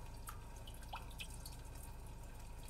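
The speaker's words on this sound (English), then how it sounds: "Almost sounds like a leaky faucet in a bathroom" The rainy-day relaxation sound played through a Kia Sorento's cabin speakers: sparse, bright water drips like a leaky faucet, a handful of plinks over a soft, steady hiss.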